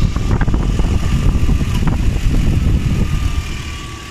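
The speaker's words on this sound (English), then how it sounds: "Engine running smoothly." A 2010 Toyota Hilux Raider 4x4 with a 4.0 V6 engine idles steadily, its low rumble continuous and close throughout with no speech.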